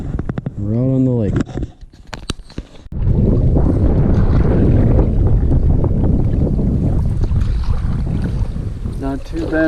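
A rented 17-foot canoe out on a lake, with steady wind and water noise washing over the microphone through most of the stretch, and a voice heard briefly near the start.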